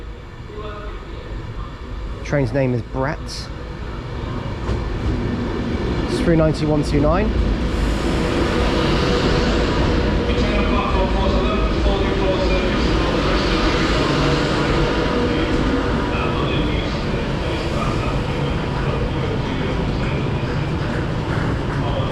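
A passenger train arriving at Lancaster station on the West Coast Main Line rumbles in and grows steadily louder, a long rolling roar with a couple of horn-like tones early on, while a person speaks briefly nearby.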